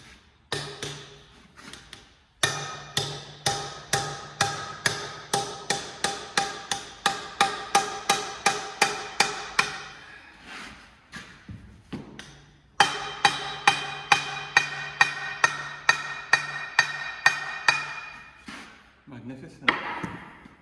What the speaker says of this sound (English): Hide hammer.